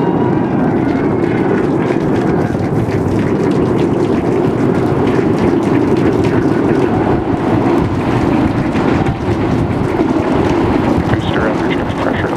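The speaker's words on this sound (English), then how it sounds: "We are seeing 33 out of 33 Raptor engines ignited." SpaceX Starship two-stage launch vehicle lifting off on its Flight 8 suborbital test, 33 Raptor engines firing: a loud, continuous broadband roar with heavy low rumble and crackle, steady throughout, with a commentator's voice faintly underneath.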